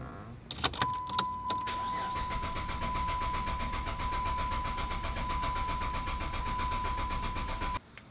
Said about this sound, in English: I'm going to try to start the car to pull any gas that's remaining in the line